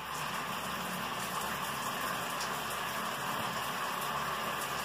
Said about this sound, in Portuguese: E o chuveiro também, que tem um som bem legal que eu gosto, que lembra o som da chuva